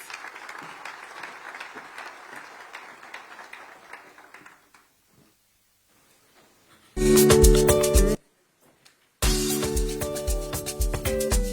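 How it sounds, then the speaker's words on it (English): A crowd at a conference on Africa's transformation through education, science and technology applauds in two loud bursts separated by a short silence, after a stretch of softer scattered claps. "Let's give him a warm round of applause."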